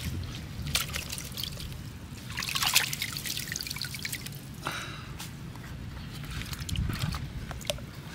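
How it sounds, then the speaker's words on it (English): Water trickles and drips into a bucket as miner's moss and carpets from a folding gold-mining sluice are rinsed out, with soft splashes and wet squishing up close outdoors. "We've got our miner's moss and carpets and everything here, so we're gonna go ahead and clean these out into this bucket."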